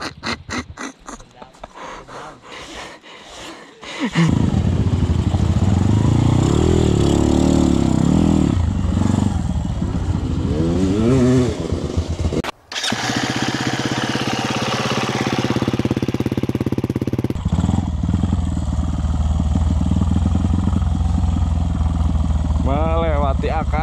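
Motorcycle ridden through mud and over tree roots, its engine revving loudly and continuously with rises and dips in pitch, after a few seconds of quieter noise at the start.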